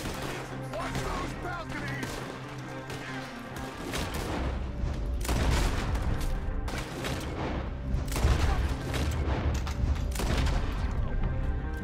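Gunfire in Red Dead Redemption 2: a fusillade of repeated shots and booms in bursts across the scene, mixed with game sound and voices.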